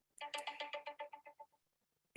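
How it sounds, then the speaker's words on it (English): A telephone ringtone plays during a worship service, a rapid series of about a dozen bright melodic beeps that fade out, followed by one more short tone after a pause; faint and alone. "I apologize for the phone ringing."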